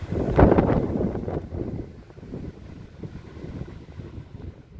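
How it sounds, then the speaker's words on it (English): Outdoor wind buffets a camera microphone in loud low rumbling gusts, strongest at the start and then settling into a steadier roar, with no voices. "If that wind blows any harder, it's going to blow my camera over."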